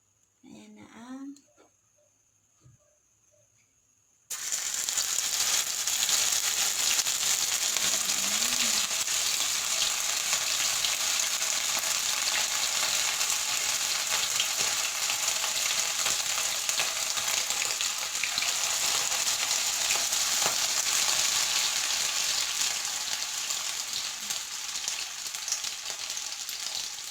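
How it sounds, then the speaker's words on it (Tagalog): Sardine omelette (tortang sardinas) frying on low heat, a quiet stretch with brief talk giving way to a sudden, continuous loud sizzle that stays steady for over twenty seconds. "magpiprito na tayo"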